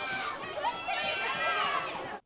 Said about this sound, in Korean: 관중들은 힘찬 목소리로 응원합니다